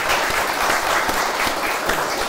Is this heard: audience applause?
yes